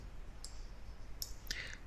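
A computer mouse clicks three times, crisp, faint, close-up taps spaced unevenly over a soft background hiss.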